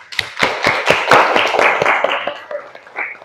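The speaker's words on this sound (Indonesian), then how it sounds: "Terima kasih, tepuk tangan." A small group in an Indonesian classroom claps briefly, with distinct, fairly close hand claps in a quick uneven rhythm that fades after a few seconds.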